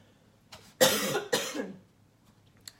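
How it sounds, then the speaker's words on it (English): A short coughing fit during a live talk: a few harsh, close coughs in quick succession, the loudest pair bunched in the middle, with a faint trailing sound at the end and no speech. "Sorry, I'm going to have a coughing fit."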